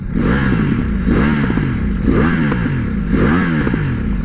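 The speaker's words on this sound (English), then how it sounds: "maybe we can hear more pops now that I have to go slow" A full carbon Suzuki Hayabusa motorcycle rides slowly over loose gravel, its exhaust giving a loud continuous rumble with rhythmic rising revs and crackling pops repeating about once a second.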